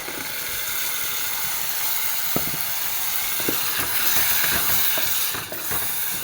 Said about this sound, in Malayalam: ഈ അരപ്പ് നമുക്കിതിൽ ഒഴിച്ചു കൊടുക്കാം